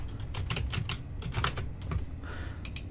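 Fast typing on a computer keyboard while entering a command on a Windows 10 PC. A close, steady run of light key clicks is heard over a constant background hum, with a couple of sharper keystrokes at the end.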